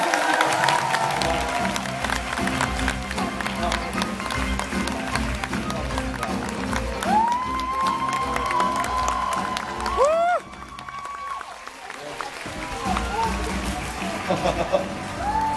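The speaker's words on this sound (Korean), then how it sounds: "두 분께 큰 박수 부탁드립니다" A studio audience on a Korean talk show applauds and cheers for two singers, a busy mix of clapping and voices over music, with a sudden drop in level partway through before the noise picks back up.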